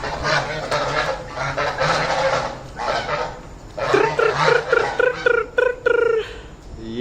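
Several ducks, kept among other birds and animals, give a busy run of nasal quacks and honking calls up close, thickening into rapid repeated calls toward the end.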